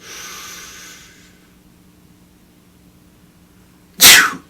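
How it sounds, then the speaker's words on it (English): One loud, sharp sneeze bursts out near the end, close by, after a faint hiss of breath and a few seconds of near silence. "Don't sneeze in the position, you hurt your neck."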